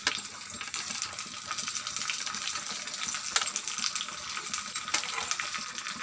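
Cumin, dried red chilies and curry leaves sizzle in hot oil with a steady, close hiss and occasional small pops and crackles, without talk.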